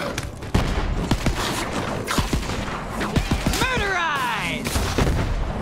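Gunfire in the video game Borderlands 3, a rapid series of sharp, close shots fired in bursts with ricochet whines and mechanical clatter, while a game character briefly shouts.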